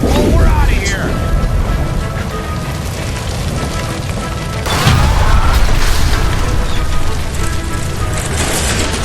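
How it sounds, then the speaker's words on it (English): A gas line blows up in the L.A. Noire video game, a loud boom about halfway through that gives way to a sustained roar and rushing noise, with voices and game sounds mixed in. "Shoot the gas line, Cole!"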